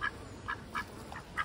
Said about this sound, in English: She's my favourite white duck.